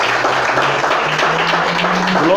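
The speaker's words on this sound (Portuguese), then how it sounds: "Pode aplaudir e glorificar." A church congregation applauds and praises during a worship service, steady dense clapping filling the whole moment at full volume with a faint sustained tone underneath.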